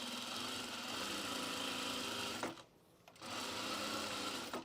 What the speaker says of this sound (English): why aren't you sewing? Did we run out of bobbin?